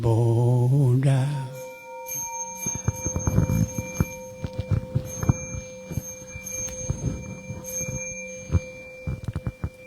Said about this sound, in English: Inviting the bell.